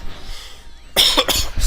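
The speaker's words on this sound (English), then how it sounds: "I'm still coughing up a storm." A sick man coughs in two or three harsh, close bursts, right after a stretch of quiet background hum.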